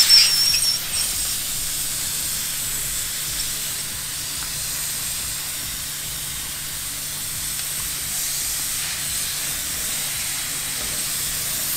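A MondoVap 2400 steam cleaner steaming through fabric and hard surfaces, a continuous close hiss of escaping steam holding steady throughout, with a brief louder burst at the start.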